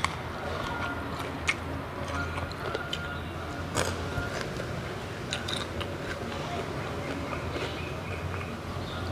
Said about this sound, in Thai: มีเสียงรถไฟค่ะ